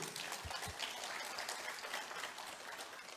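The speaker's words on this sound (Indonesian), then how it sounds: "Tepuk tangan buat beliau." Sustained applause from a crowd at a political event in Indonesia, a dense steady patter of clapping filling the space at an even level throughout.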